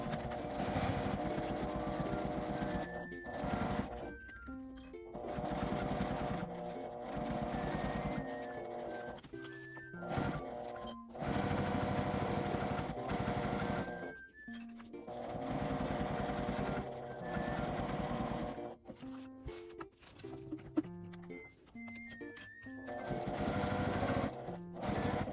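Sewing machine stitching a laminate fabric pouch, several runs of rapid mechanical chatter lasting a few seconds each, separated by short pauses and faint handling sounds, close and fairly loud.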